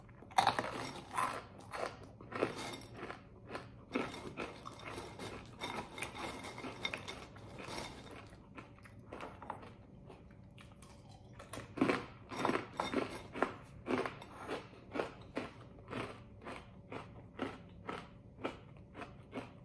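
Loud, repeated crunching of dry LARABAR Apple Pie granola cereal with big clumps of flakes being chewed, bite after bite in an uneven rhythm, close up with no talking.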